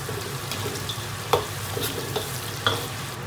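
Sichuan peppercorns and star anise tossed into hot oil in a wok, a dense sizzle broken by a few scraping stirs of the spatula, close up.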